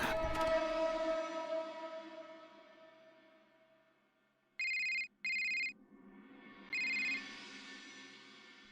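On an outgoing phone call, a fading tone dies away, then three bursts of electronic ringback tone play clearly in near silence.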